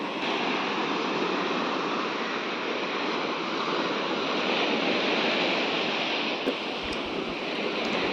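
Ocean waves wash onto a beach at sunset in Mangalore in a steady, continuous roar of surf with a hint of wind, unbroken and fairly close for the whole stretch, with no voices.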